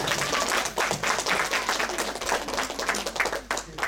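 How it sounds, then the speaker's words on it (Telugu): Audience clapping in thanks for volunteers who ran a five-day devotional event, a dense, sustained round of applause that stays loud and even throughout. "దయచేసి ఈ వాలంటీర్స్ అందరికి ఒక్కసారి చప్పట్లతో థ్యాంక్ యూ చెప్పండి ప్లీజ్"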